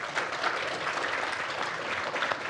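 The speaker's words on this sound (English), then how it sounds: "give a round of applause for Sheldon Lubar." A room full of people applauds to honour a benefactor at a gathering, a continuous, even wash of many hands clapping at moderate volume with no voices on top.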